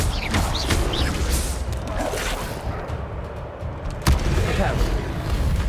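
Incendio fire spell being cast in the video game Hogwarts Legacy, a loud whooshing burst over dense, constant game noise, with a sharp impact near the end.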